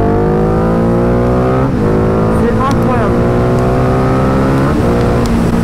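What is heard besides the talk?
Ducati Diavel 1260 motorcycle engine accelerating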